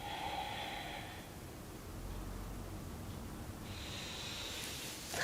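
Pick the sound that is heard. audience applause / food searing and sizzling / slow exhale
slow exhale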